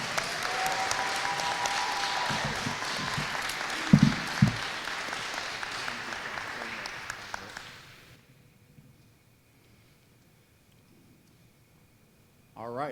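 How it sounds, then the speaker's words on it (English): An audience at a high school scholarship ceremony claps for a student in a dense, steady burst of applause. It fades out after about eight seconds into near silence, with a brief sound at the very end. "Let's all give her a round of applause."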